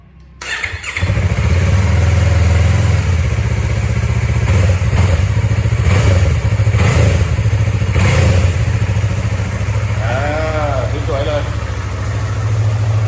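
A 2021 Yamaha MT-03 motorcycle, stock exhaust, fires up and settles into a loud, steady running rumble close by for the whole stretch, with a brief rev and a voice speaking near the end.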